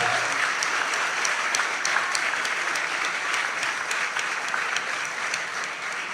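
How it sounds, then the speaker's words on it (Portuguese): An audience at a conference opening ceremony applauds steadily and loudly for several seconds, a dense even wash of clapping with no voices over it. "Ahora sí, un aplauso y el agradecimiento a todos ellos."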